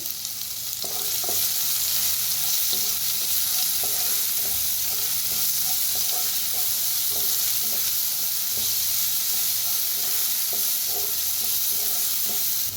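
Curry leaves and coriander roasting in hot oil, giving a steady loud crackling sizzle while a utensil taps and scrapes the pan in a quick, repeated stirring rhythm.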